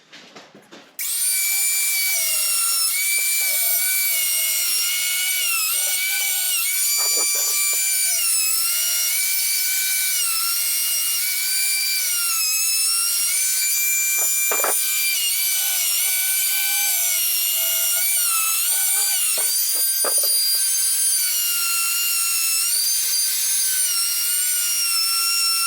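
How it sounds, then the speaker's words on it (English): A power router runs continuously along the edges of log bench pieces, giving a loud, sustained high-pitched whine with shifting tone and occasional cutting bites into the wood, alone for about twenty-five seconds. "we're going to take the router and start routing off the edges."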